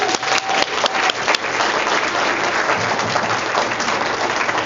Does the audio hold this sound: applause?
yes